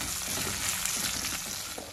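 Green chillies, buttermilk chillies and curry leaves frying in oil, a brief steady crackling sizzle close by with no talking.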